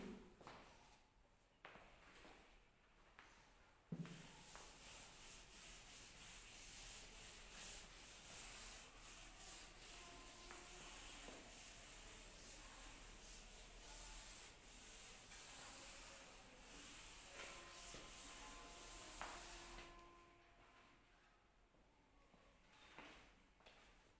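A duster rubs writing off a classroom board in a long steady scrubbing hiss of about fifteen seconds, close and fairly loud, with a few brief knocks before and after.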